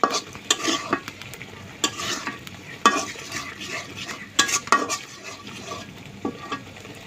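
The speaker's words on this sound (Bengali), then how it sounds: "এই মশলা কাঁসান দিয়ে" Masala spices sizzle in a pan while a spoon stirs and scrapes against the metal in irregular clattering strokes, close and fairly loud, with no voices.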